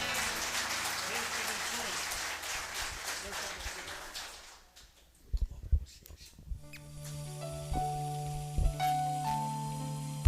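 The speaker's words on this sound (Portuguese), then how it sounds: "Palmas para Jesus" In a church, the congregation claps for a few seconds in a dense burst that fades out, followed by quieter sparse sounds and sustained organ or keyboard tones.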